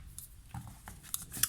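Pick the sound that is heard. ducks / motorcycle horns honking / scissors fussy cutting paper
scissors fussy cutting paper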